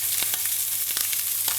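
Steady, loud sizzling of halibut frying in a hot pan, a dense hiss with small crackles and pops, close up and with no voices.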